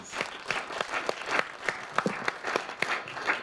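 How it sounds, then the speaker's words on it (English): A small group claps, scattered and uneven, with individual claps standing out rather than a dense roar; fairly quiet and close. "Let's give a round of applause."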